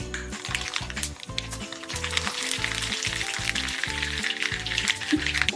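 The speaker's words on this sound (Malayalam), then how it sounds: "എണ്ണ ഒന്ന് ചൂടായിട്ട് വരുമ്പോൾ അതിലേക്ക് നമുക്ക് കടുക് പൊട്ടിക്കണം." Mustard seeds crackling in hot sesame oil for a lemon pickle: a dense, steady close-up sizzle peppered with sharp little pops, under rhythmic background music.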